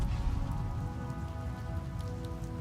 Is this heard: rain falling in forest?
yes